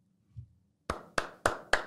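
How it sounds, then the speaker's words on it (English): Four sharp handclaps ring out in an even rhythm, close and distinct, after a soft low thump, with no talking. "I just gotta give you a clap"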